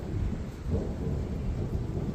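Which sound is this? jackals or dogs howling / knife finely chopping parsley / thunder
thunder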